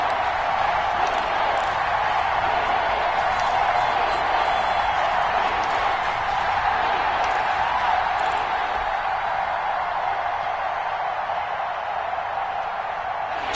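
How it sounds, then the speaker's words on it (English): Stadium crowd at a football game involving the Lions ahead of a big third down, a steady loud roar and cheer filling the whole stretch with no break. "The crowd getting into it as we come up on a big 3rd down."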